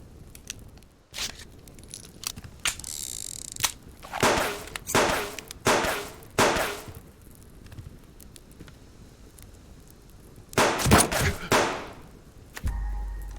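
A gunshot headshot in a video game, fired at a target standing still under a bright light: several loud, sharp cracks in a cluster, then a second burst of close shots after a pause, with no talk.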